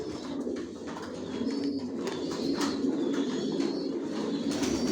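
Racer pigeons coo in a loft, a steady soft murmur of overlapping low calls with occasional wing flutters, continuous and fairly close throughout.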